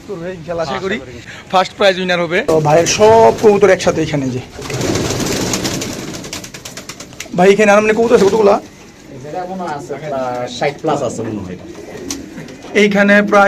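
Racing pigeons coo in a loft, close and repeated throaty rolling calls in several bursts, with people talking over and between them.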